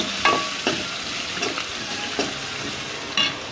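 Chopped banana stem fries with onions in a pan for a stir-fry, giving a steady sizzle. Scraping stir strokes and clacks of the utensil against the pan recur throughout, close and moderately loud, with no voices.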